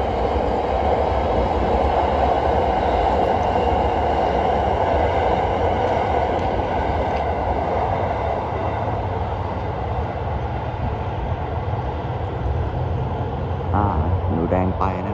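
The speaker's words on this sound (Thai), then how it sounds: "ขบวนที่32มาพอดีเลยนะฮะทักษิณารักษ์นะครับผมหาดใหญ่กรุงเทพนะฮะ" Thaksinarat express train no. 32 from Hat Yai to Bangkok passing close by, a loud continuous roar of wheels and rail clatter sustained throughout, with someone talking over it.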